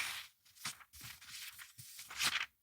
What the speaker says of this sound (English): Turning that page.